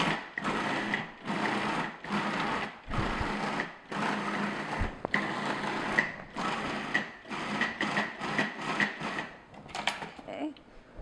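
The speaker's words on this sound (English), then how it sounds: "Using a food processor is a really easy way to make a cheesecake." Full-fat ricotta churning in a food processor for a cheesecake, a steady motor whir that pulses on and off in repeated bursts, close and fairly loud, with no talking over it.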